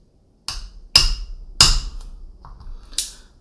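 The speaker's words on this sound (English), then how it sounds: "we're gonna have to hammer this pin flush on the left side" Hammer strikes driving a pin flush in an APS CAM870 airsoft shotgun trigger group, four sharp metallic taps spaced unevenly with a lighter tap between, close and clear with no talking.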